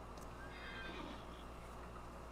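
A horse neighs in the video game Farming Simulator 19, a single clear whinny rising and falling over about two seconds, quiet and alone over a low steady hum.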